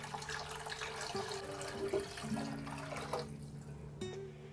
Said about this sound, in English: Now I'm gonna add my beef broth.